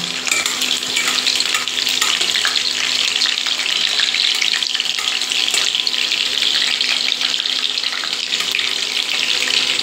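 Chopped garlic and chili fry in hot refined oil in a kadai, a loud, dense, steady sizzle with fine crackle, close up and uninterrupted, with no one talking.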